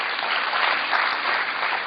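An audience at a seminar claps steadily and loudly, a dense wash of applause that holds for the whole stretch without pause.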